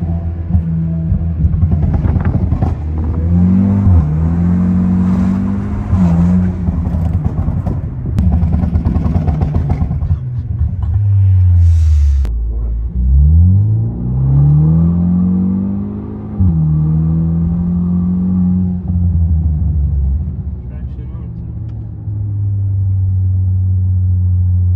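A tuned Hyundai N-Line car engine on a run, heard from inside as it revs up through the gears with loud droning pulls, drops briefly between shifts, then settles into a steady cruising hum.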